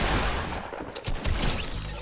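Gunfire from the Guggimon character in a shooting video game, a quick spray of dense crackling shots with a few separate bursts, close and fairly loud, no talking.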